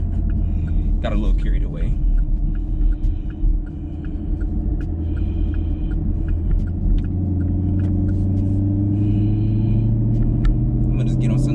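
A newer, already fast car being tuned on full-throttle pulls, its engine a steady loud low rumble and drone that rises near the end, with someone talking over it from inside the cabin.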